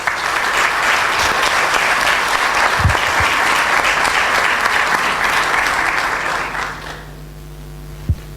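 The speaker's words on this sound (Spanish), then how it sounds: "me gustaría un aplauso para toda la gente de la organización" A seminar audience at a personal finance event applauds the organizers in a sustained, dense burst of clapping that fades out near the end, leaving quiet room tone with a single thump.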